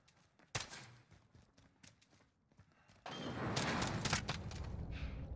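Gunfire in a 2v2 gunfight video game: a sharp shot burst early on, scattered quieter pops, then a dense sustained barrage of rapid shots that fills the last half, with no talk over it.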